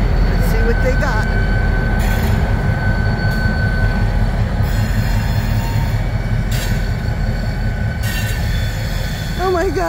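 A long freight train hauled by three locomotives rumbles steadily past nearby, wheels grinding and squealing on the rails in a loud, continuous roar, with brief voices over it.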